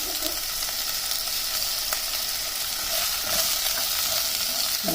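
Sesame seeds fry in a little oil for a chutney, producing a constant, dense crackling sizzle close by with occasional stirring scrapes, with no voices.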